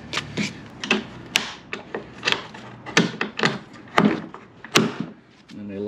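Clamps on an OEDRO quad-fold tonneau cover are tightened and locked against the underside of a truck bed, giving a series of close, sharp clicks and knocks in an irregular rhythm, with brief rubbing between them.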